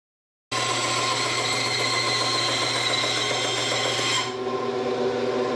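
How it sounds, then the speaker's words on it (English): A woodworking bandsaw starts abruptly and runs with a loud, steady whine and rasping hum while cutting out a wooden slingshot, its tone dropping slightly near the end of the cut. "To the bandsaw we go."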